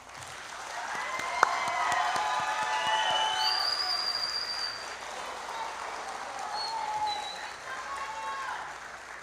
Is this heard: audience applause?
yes